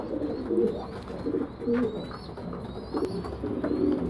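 Homing pigeons cooing in a loft, several soft, low rolling coos repeating close by, with faint chirps and rustling in the background.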